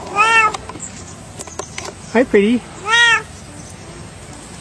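A kitten meows three times in rising and falling cries, close and fairly loud against a quiet room, while a person speaks softly between the calls.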